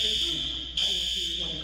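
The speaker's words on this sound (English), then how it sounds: "what he's listening to is a different fire alarm" A fire alarm sounds with a continuous shrill high-pitched tone, loud and steady, while people talk over it.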